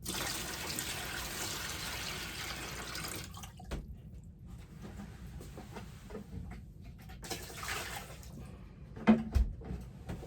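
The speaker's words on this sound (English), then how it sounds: "I'm now raising the level of the water to my black line." Water is poured into a container to raise its level for a potter's damp box, a steady soft trickle and splash that thins out partway and leaves sporadic drips and light knocks.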